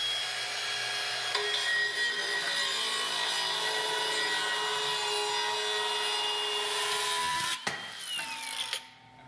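A car part is chopped with a cutting tool before welding, giving a loud, continuous grinding whine that holds steady for about seven seconds, then stutters and trails off as the cut finishes.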